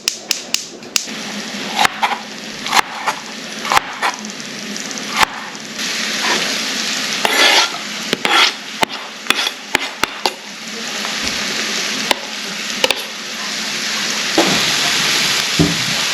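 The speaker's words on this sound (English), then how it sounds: "When you're sauteing the onion and the pepper, just make sure you're covering them up in all that oil and mixing those flavors together." Onion and pepper sizzle in olive oil in a cast iron pan, a continuous close frying hiss broken by frequent sharp clicks and scrapes of stirring, with no voices.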